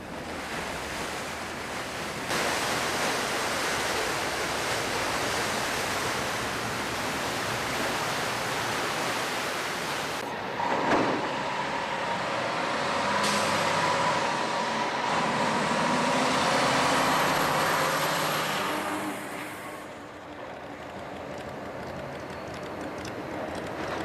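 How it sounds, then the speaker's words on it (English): A car ferry carrying vehicles crosses the Saguenay fjord in Quebec, giving a long steady wash of water and wind noise with a low engine rumble that swells and then eases near the end. "Instead, car ferries free of charge run between both banks."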